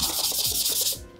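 Dry sandpaper rubbed back and forth over a 3D printed Ironman mask part, a close, steady rasping scrape in quick repeated strokes that stops abruptly near the end.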